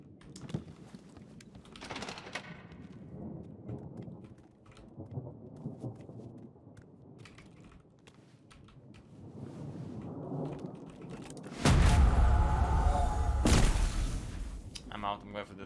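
A thunderstorm in the online video game CRSED: F.O.A.D. rumbles under a player talking and game sounds, then a loud, close thunderclap crashes near the end and dies away over a couple of seconds.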